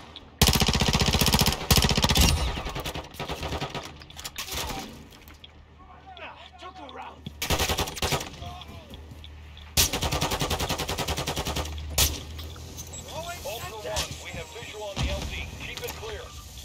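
Rapid automatic gunfire in Call of Duty Warzone 2 DMZ, loud bursts of shots separated by quieter gaps with splashing and radio voices between them.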